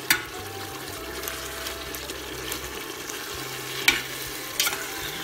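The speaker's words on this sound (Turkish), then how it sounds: "Etlerimizi şöyle çevire çevire salçasını koymadan önce bir kavuralım." Meat browns and is stirred in a pan over high heat. A soft, steady sizzle runs underneath, with occasional scraping clinks and a louder knock near the middle, and no one talks.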